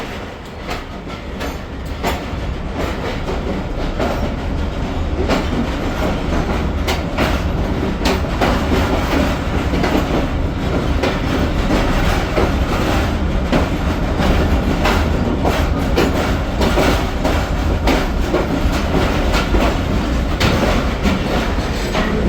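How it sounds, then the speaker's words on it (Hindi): Karakoram Express train running on the rails at night, a steady loud rumble with rhythmic clickety-clack of wheels throughout, heard close from onboard or trackside with no talk. "41 कराकरम एक्सप्रेस आ रही है"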